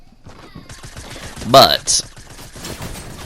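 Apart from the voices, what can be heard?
tactical shotgun firing in Fortnite video game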